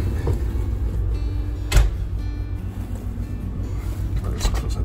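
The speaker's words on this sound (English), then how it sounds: "Let's close that door properly." A door on the deck of the expedition ship MS Expedition shuts with one solid thud, set against a constant low rumble of engines and wind.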